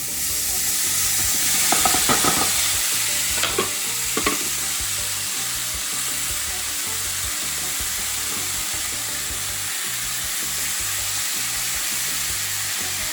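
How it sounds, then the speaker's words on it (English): Wild mushrooms dry sautéing in a moderately warm pan, water steaming off in a steady close sizzle with a few stirring scrapes early on, the hiss gradually easing as the moisture cooks away. "that's just the water sizzling out"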